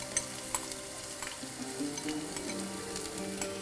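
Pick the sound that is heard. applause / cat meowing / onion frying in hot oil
onion frying in hot oil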